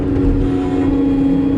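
A New Holland skid steer engine runs steadily and loudly at close range, a dense, unbroken mechanical drone with a strong low hum and no voices.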